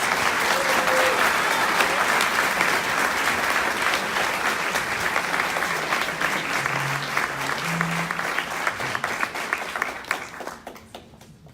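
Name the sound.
applause for award recipients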